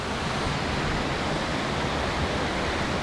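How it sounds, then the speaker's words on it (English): Waterfall in Panama, a dense, steady roar of falling water heard up close, broadband hiss filling the air without pause or talking. "We have made it to the top of the second waterfall."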